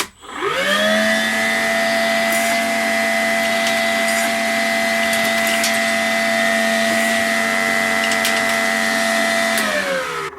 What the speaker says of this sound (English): Brad nails are notoriously hard for vacuums to pick up. I don't think it'll do it on number one, but let's see.